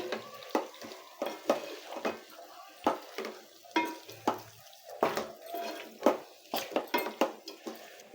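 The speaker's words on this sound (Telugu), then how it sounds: "చక్కగా పసుపు ఉప్పు మొత్తం కలిసేలాగా కలుపుకోవాలండి." Chicken coated with turmeric and salt being stirred in a pot, a close run of repeated scraping and clacking strokes in a steady, brisk rhythm with no talking.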